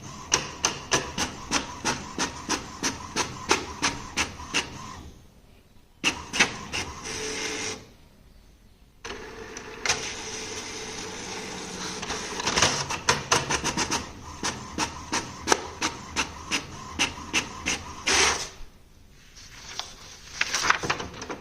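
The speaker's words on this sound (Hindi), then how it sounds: "प्रिंटर हमारा चालू हुआ और देखते हैं ये डबल साइड प्रिंट करता है कि नहीं करता है।" An HP Smart Tank 670 inkjet printer runs a double-sided job, making rapid rhythmic mechanical clicking and ticking in bursts. Whirring paper-feed passes and short pauses come as each sheet flips, with no talking.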